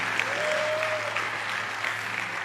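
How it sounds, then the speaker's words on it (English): An audience gives a sustained round of applause at a talk, dense steady clapping filling the room with a few sharper claps standing out and a brief tonal whine in the middle. "I think that deserves another round of applause."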